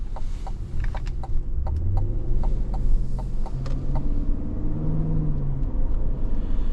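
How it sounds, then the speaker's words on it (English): The V8 of a 2026 Cadillac Escalade V growls at a low, steady level while driving, with pitch shifts as it revs, heard from inside the cabin alongside road rumble and occasional ticking clicks. "It's not a droning noise. It's a very nice V8 kind of growl."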